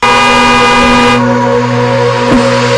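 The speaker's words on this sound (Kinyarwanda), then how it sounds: "umukobwa yasinziriye ku ihoni" A car horn blares in one loud continuous note, held without break as if someone is slumped asleep on it.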